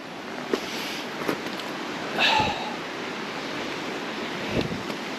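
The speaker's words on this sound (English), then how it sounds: "that is a nice pool, and a little waterfall too." A small waterfall spills into a pool in the mountains along a hiking trail, making a steady broadband rush of falling water mixed with wind noise and a few soft bumps, with no one speaking.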